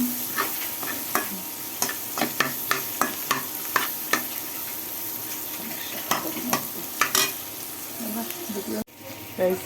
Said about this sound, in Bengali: এখানে আমি ছেলে খাবে নুডলস রান্না করতেছি